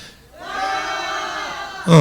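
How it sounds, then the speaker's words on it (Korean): A church congregation at a Sunday afternoon service lets out a sustained victory shout together, many voices rising after a quiet start and holding as one loud roar before breaking off. "자, 승리의 함성입니다."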